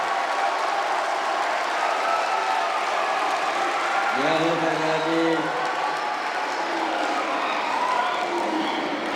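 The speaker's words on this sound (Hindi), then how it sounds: "पूरा सदन एक बार हाथ खड़े करके जोरदार सेलिब्रेट करें, जोरदार तालियां बजाएं" A crowd at a Hindi kavi sammelan comedy poetry gathering at an academy applauds loudly and continuously, a thick roar of clapping and cheering that runs throughout while a voice speaks over it midway.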